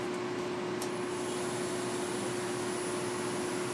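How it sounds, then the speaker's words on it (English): A wood lathe spins a tumbling bowl at up to 1800 RPM while a 1/2-inch bowl gouge with a 40/40 grind cuts the wood, making a steady, close hiss over a constant motor hum with no talk. "I'm going to start with my 1/2-inch bowl gouge that has a 40/40 grind on it and see how that cuts."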